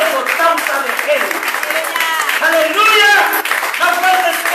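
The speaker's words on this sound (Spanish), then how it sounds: "Dale un aplauso" Congregation clapping in a Spanish-speaking church service, loud and continuous, with excited voices and shouts mixed in over the applause throughout.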